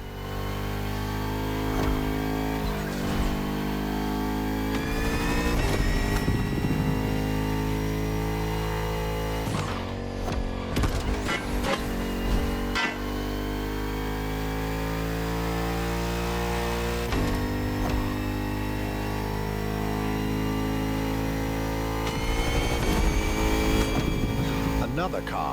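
Bugatti Vision GT in the racing game The Crew Motorfest, its engine revving and roaring continuously at high pitch with gear shifts and rising, falling pitch, loud and close, while someone talks over it.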